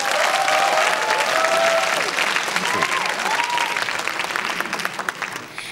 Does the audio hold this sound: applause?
yes